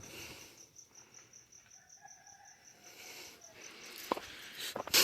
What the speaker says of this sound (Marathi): कोंबडी वगैरे ओरडत आहेत बघा सकाळ सकाळी मस्त